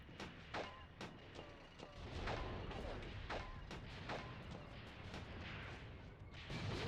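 Katyusha rocket artillery fire in the WWII video game Mius Front, a rapid ripple of sharp launches and cracking blasts layered over continuous rumbling battle noise, dense and loud throughout.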